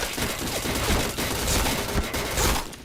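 Continuous loud gunshots in a mobile shooter game during a headshot kill, rapid overlapping fire close up with no pauses.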